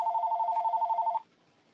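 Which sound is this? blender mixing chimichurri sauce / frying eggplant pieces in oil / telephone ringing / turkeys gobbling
telephone ringing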